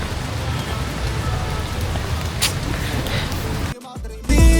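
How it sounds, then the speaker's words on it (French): Heavy rain pours steadily across the Majorelle Garden in Marrakech, a dense close hiss that holds for several seconds before a brief dip and a louder, harsher burst at the end. "on est dans le jardin Majorelle, mais il pleut de fou"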